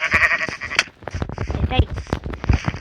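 Sheep in the Minecraft video game bleat repeatedly in short, close, loud bursts while a person talks over them throughout.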